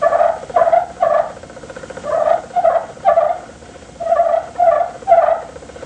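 A box-style turkey call is worked with the striker kept against the board, giving clusters of raspy, high yelping clucks in short rhythmic bursts with brief pauses between them.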